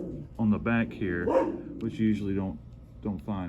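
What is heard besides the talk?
dog barking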